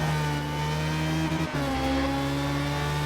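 A Ferrari race car in Forza Motorsport holds a loud, steady engine drone at high revs, with a brief dip in the middle before the engine pulls hard again.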